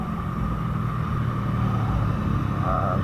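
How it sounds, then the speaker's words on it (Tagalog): Steady road traffic rumble and engine drone while riding a motorcycle through congested traffic on C5 in Metro Manila, continuous and fairly loud with wind buffeting and no speech. "medyo traffic na dito sa C5."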